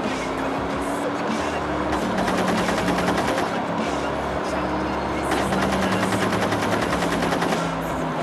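Rapid machine-gun bursts in an action video game, loud rattling fire in two long stretches with an engine rumbling beneath and voices talking throughout.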